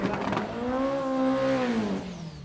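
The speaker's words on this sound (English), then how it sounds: "Guy's car seems to be on a much better run this time. In fact, yeah, there he goes" A front-wheel-drive drag race car at Santa Pod Raceway during a 2013 drag series round, its engine note rising steadily as it accelerates away down the strip, loud and sustained before fading slightly at the end.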